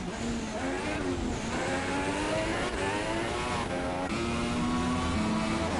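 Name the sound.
Formula race car engine at Monaco in a racing video game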